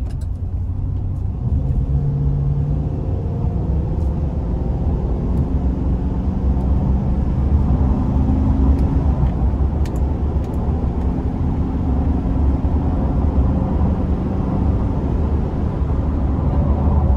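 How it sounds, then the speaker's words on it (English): A 2020 Explorer GMC Savana 2500 conversion van accelerates while merging onto an interstate, a loud, steady engine drone and road rumble heard from inside the cabin, with the pitch climbing and shifting as it gains speed. "We're gonna give it a little throttle here just to see how it moves,"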